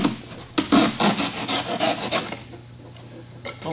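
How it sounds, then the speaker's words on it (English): A hacksaw blade sawing off foam in a Rutan-style composite aircraft build, a series of rapid close rasping strokes in a steady rhythm for about two and a half seconds, then quieter with one last stroke. "we take this hacksaw blade and we saw it off, leaving an eighth of an inch of foam or so on it"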